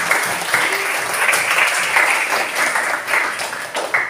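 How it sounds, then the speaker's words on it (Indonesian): Classroom audience clapping for a student named Alia during a Quran reading and writing lesson, a brief, dense patter of many hands at close range, fairly loud and continuous for about four seconds. "Berikan tepuk tangan untuk Alia"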